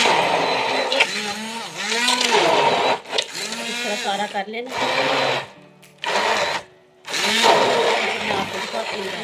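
Hand blender whirring in repeated bursts with short pauses, its motor whine rising and falling as it mashes ketchup ingredients, with a brief spoken remark.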